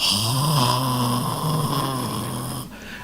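A voice imitates a wife's snoring with a steady, loud, rasping drone that stays continuous for most of the moment, then cuts off abruptly near the end.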